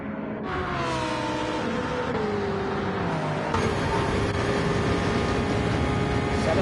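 A hypercar in a Daytona road-course sim race drones close and loud, its engine note sliding down as it slows into the pit lane, steady and unbroken with no voices.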